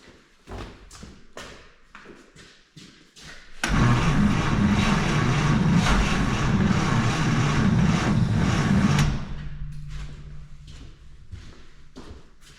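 An old engine, unrun for about 50 years, cranks with a rhythmic chugging before catching for a loud, steady burst of running that then drops back to slower, softer turning.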